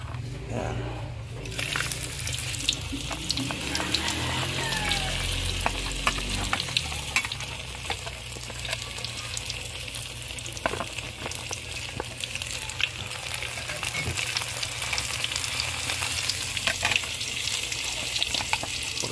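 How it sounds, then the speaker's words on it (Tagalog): Dried fish (daing) frying in a pan with a steady loud sizzle and occasional stirring scrapes, while people talk faintly in the background. "Prito tayo ng tuyo guys."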